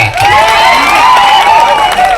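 Crowd of adults and children cheering and shouting together at a public gathering with a swami and a legislator, a loud continuous roar of voices running throughout.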